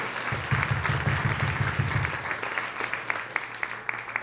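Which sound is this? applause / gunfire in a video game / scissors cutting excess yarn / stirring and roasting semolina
applause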